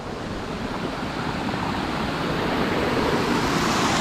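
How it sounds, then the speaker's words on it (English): Fresh water rushes down a river stream in Manchester, Jamaica, a dense, continuous broadband wash heard up close and loud with no voices, building slightly over its few seconds. "Fresh water come from the stream"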